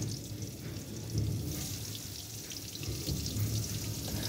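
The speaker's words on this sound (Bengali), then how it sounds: "কড়াইতে সর্ষের তেল গরম করে বেগুনগুলো একে একে ছেড়ে দেব।" Eggplant slices fry in hot mustard oil in a wok, a dense, steady crackling sizzle with a watery bubbling texture, fairly close and continuous throughout.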